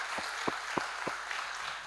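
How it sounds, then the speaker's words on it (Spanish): A church congregation applauds to welcome first-time visitors during a service: a soft, dense wash of clapping, fairly quiet and steady, with a few duller thumps spaced through it. "te da un fuerte aplauso de bienvenida"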